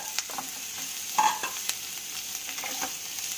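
Boiled potatoes with garlic, green chilies and spices frying in a pan with onions, a steady close sizzle broken by several scraping stirs of a utensil.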